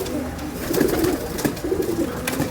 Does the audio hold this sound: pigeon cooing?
yes